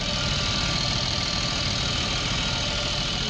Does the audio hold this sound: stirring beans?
no